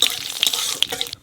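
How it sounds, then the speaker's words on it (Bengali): Cumin, bay leaves and dried chillies hit hot oil in a Bengal-style fish curry pan, giving a steady close sizzle with sharp spitting pops scattered through it, cutting off abruptly at the end. "তেলের পর দিয়ে দেবো জিরে, তেজপাতা, শুকনো লঙ্কা"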